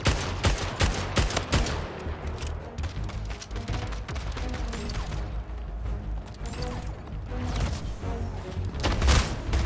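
Rapid gunfire, including shotgun blasts, fills the shooter video game Splitgate: dense bursts of sharp shots and mechanical clatter come thick and close for nearly ten seconds, with booming impacts near the end.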